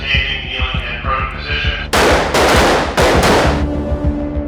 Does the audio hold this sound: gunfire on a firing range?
yes